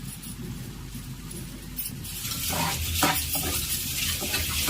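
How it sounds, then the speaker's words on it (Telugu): Steady sizzling of mutton liver pieces frying in a hot pan with coriander, cumin and garam masala powder, with scraping stirs getting louder midway, close and continuous without speech. "ఈ ముక్కల్ని బాగా ఫ్రై చేసుకోవాలి"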